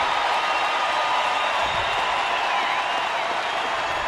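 A baseball stadium crowd of nearly 28,000 roars steadily, cheering and pleading for a base hit, a continuous wash of voices with no breaks.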